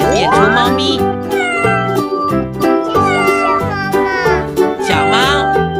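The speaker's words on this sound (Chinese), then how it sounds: "小猫。" A cartoon cat in an animated children's animal show meows repeatedly in rising and falling, sing-song cries over steady background music.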